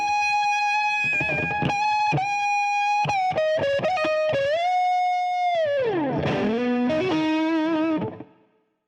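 An electric guitar plays the closing bars of a solo through distortion and modulation effects, with sharp picked notes, sustained bends and a sliding vibrato finish, loud and up front with no talking.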